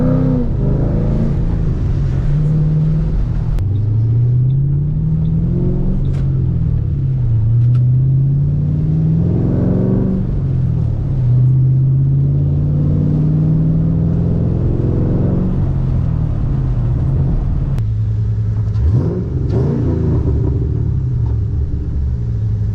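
A Mustang drifting on a wet street in the rain, its engine rumbling loud and close with repeated rev rises and dips as the clutch is kicked, ending in a sharp surge near the end.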